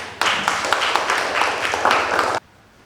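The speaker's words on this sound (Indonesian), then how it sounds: "kita kasih aplaus dulu untuk kelompok 1" A classroom group is applauded with a dense burst of clapping from many hands, steady and fairly loud for about two seconds before cutting off abruptly into quiet.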